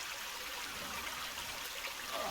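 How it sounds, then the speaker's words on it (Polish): Clean drinking water flowing steadily in The Forest video game, a faint continuous trickling stream with no other sound. "to jest bodajże czysta pitna woda"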